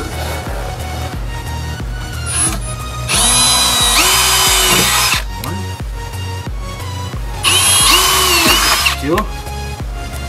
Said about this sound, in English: now we're gonna pre-drill the pilot holes